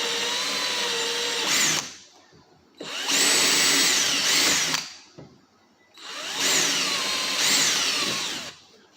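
Power drill driving bits through wood for tilting boat davit mounting holes, in three loud bursts of whining motor separated by short pauses, close and alone with no talk.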